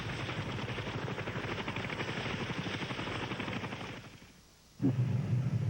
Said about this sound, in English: the Huey UH-1B helicopters, nicknamed Seawolf